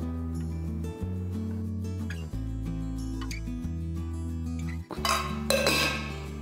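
Millet appam batter is stirred in a bowl, with a sustained low whirring and soft clinks and scrapes of a utensil against the vessel, ending in a louder clattering burst.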